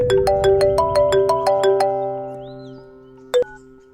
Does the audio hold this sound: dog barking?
no